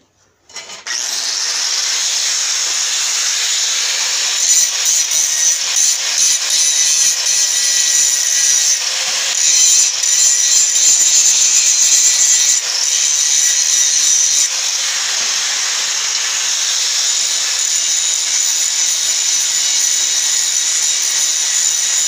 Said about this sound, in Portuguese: Aí aqui eu vou mostrar agora como é que solda.